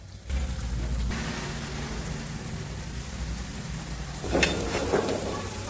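Steady heavy rain pours close by in rainy weather, a dense continuous hiss with a few brief louder bursts near the end, heard alone without any voices.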